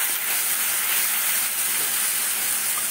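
Sauce for chicken momo bubbling and boiling in a pan, a steady close hiss with a soft rolling bubble underneath that stays even for the whole stretch, with no voices.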